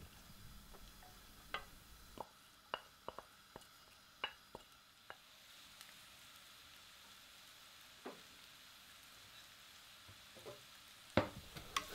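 Sliced onions hit warm olive oil and melted butter in a pot and set off a quiet sizzle, marked by sharp clicks and taps of utensils against the pan at irregular intervals.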